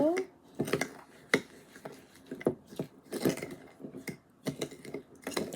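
Sea moss and sugar face scrub stirred in a bowl, gritty scraping and clicking strokes in an uneven rhythm, close and fairly quiet.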